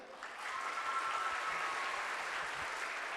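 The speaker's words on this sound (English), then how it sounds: "Let's give a big clap to the national hero of Cambodia." Steady, distant audience applause fills a school debate program hall, a continuous wash of clapping at low volume with no speech over it.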